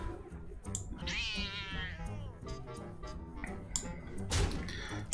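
A cat from a Hearthstone card attacks in the video game, letting out a bright rising meow and caterwaul over busy game sound effects, followed by a sharp impact hit near the end.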